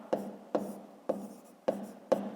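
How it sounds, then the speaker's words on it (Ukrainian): Pen writing on paper while working a fifth-grade maths exercise, five short scratchy strokes evenly spaced, close and quiet. "Пишемо так."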